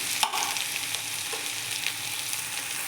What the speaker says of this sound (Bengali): এখন আমি এইটাকে অল্প সময় নাড়াচাড়া করব, ভাজতে দেব অল্প সময়।